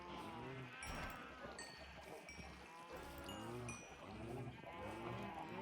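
Cows moo repeatedly in a farming video game, overlapping lowing calls over a steady busy game soundscape with bright chiming tones.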